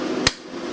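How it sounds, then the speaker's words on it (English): A metal center punch is struck once with a hammer to mark metal before drilling: a single sharp, close crack stands out against a quiet background hum. "And I'm going to use a punch."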